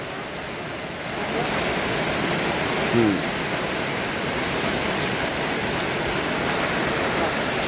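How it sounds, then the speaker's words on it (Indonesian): Rain falling steadily at a roadside stop in a West Java village, a dense, even hiss of drops that swells after the first second and stays loud and constant throughout. "Aduh, hujan lur, kumaha ya hujan."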